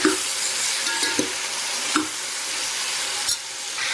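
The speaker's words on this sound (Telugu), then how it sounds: "సో మనం ఇలా చక్కగా కలిపేస్తున్నాము కదండి" Ginger-garlic paste and curry leaves are stirred in a hot pan with brinjal, giving a steady sizzle and hiss punctuated by a few scraping clinks of the spoon against the metal.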